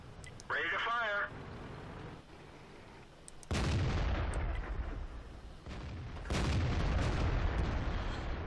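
An AMX 1390 light tank in World of Tanks firing its gun, several sharp booming shots with rumbling tails at intervals, alongside game radio chatter and a short electronic warble early on.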